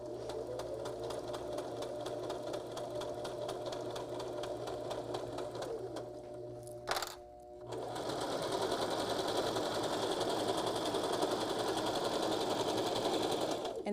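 A sewing machine stitching a small fabric knot bag, running steadily with a fast even whir, pausing briefly for a back stitch before resuming forward at the same close, continuous pace.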